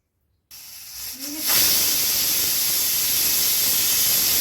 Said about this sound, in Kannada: ಕುಕ್ಕರ್ ಮುಚ್ಚಳ ಮುಚ್ಚಿ 4 ವಿಸಿಲ್ ಕೂಗಿಸ್ಬೇಕು ಇದನ್ನು